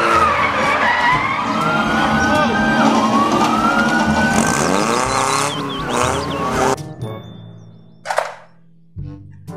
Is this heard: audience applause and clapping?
no